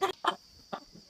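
A young chicken on a farm gives three short, soft clucks in quick succession, close and fairly quiet with brief pauses between them.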